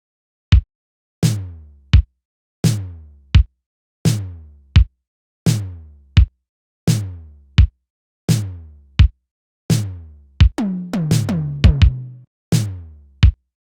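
Punchy 80s-style analog synth toms hit in a steady shuffling pattern, each with a sharp attack and a short pitched decay, fills rolling quickly near the end, alone with no voices.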